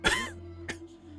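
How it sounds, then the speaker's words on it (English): A raspy, crackling cough from a character in the video game Esoteric Ebb bursts out, followed by a second shorter cough over a low steady hum. "lets out a crackling cough"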